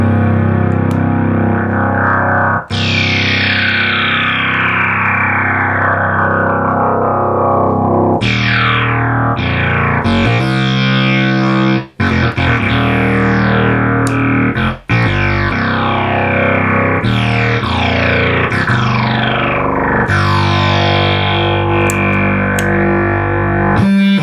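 A restored Minimoog synthesizer plays loud, continuous tones with FM synthesis modulation, producing sweeping, falling pitch glides and gritty, distorted timbres that shift every few seconds over about 24 seconds, with no talking.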